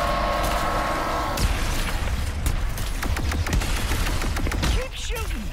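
Rapid weapon blasts and explosions crackle through a Ratchet and Clank Rift Apart battle, a dense, loud barrage of bursts and booms, with voices calling out briefly over it near the end.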